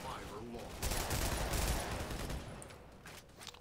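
Rapid SMG fire in the shooter game Halo: The Master Chief Collection, dense bursts of gunshots that swell and hold loud for a couple of seconds before easing off, over steady game noise.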